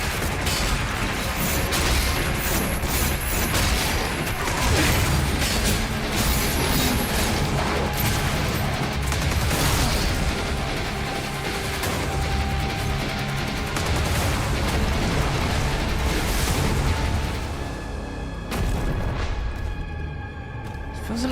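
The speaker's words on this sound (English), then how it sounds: "Oh, I should use the big grenade launcher." Heavy grenade launcher blasts and explosions in the first-person shooter Doom The Dark Ages, a dense, loud, continuous barrage of booms and gunfire layered with game effects, with a voice talking over it.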